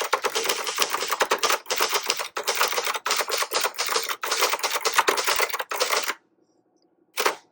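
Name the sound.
typing on a manual typewriter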